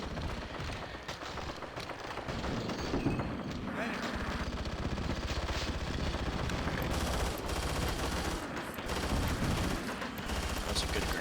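A SAW light machine gun fires in Battlefield 2, sustained rattling bursts mixed with other gunfire across a busy battlefield, with a voice speaking over the shooting.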